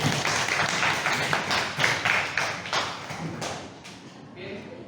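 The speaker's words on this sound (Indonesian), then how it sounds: "tepuk tangan untuk Gania" A classroom of students claps for a classmate, dense close applause that thins and fades toward the end.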